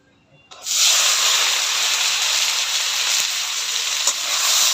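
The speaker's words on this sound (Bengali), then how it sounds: "এগুলো তো তেলে ভাইজা নিব" Boiled soybean chunks drop into hot oil, and after brief quiet a loud, steady sizzle bursts in and holds, a continuous bright hiss of frying with small crackles.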